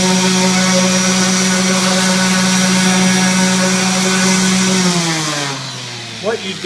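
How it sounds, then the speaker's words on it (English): Steady loud whine of a power sander running continuously on a wooden cutting board, then the motor pitch drops as it winds down near the end. "When we're sanding, we want to allow the sander to do the work."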